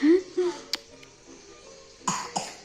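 A small child gives a couple of short coughs, with faint child vocal sounds just before.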